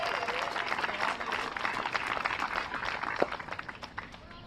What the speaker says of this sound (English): Warm round of applause for